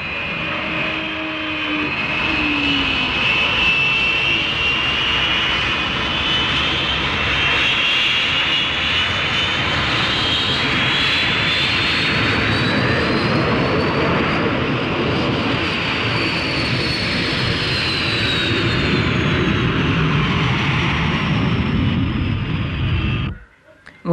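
A North American F-86 Sabre's jet engine roars at 100% power while taxiing, a loud sustained turbine whine with a slowly shifting high tone that runs steadily for over twenty seconds before cutting away.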